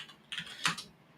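A few quick clicks on a computer keyboard, faint and close, tapped in two small bursts with quiet room tone between them.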